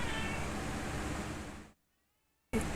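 A pet cat named Lucian meows near the microphone, a dense, steady sound lasting about a second and a half. It cuts off into near silence, then returns briefly at the end.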